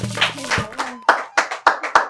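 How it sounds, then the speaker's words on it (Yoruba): A studio audience on a Yoruba-language quiz show claps in several sharp, separate bursts after a voice speaks briefly at the start, the claps close and loud. "Ẹ pàtẹ́wọ́ fún mi."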